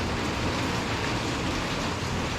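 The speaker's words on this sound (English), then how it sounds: "Yeah, the rain, it's just filling everything up at the moment." Steady rain falls over a garden pond, a dense, unbroken hiss of drops hitting water and leaves, loud and even throughout with no voices.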